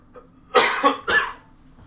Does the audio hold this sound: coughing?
yes